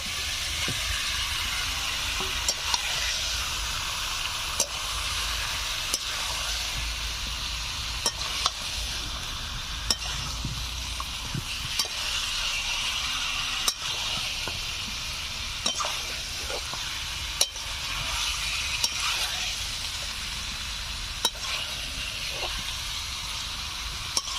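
Chicken with fried potatoes and spices stir-fried in a pan for a Bengali chicken curry, giving a steady broad sizzle and hiss with regular scraping stirs from a utensil, close and continuous with no talking.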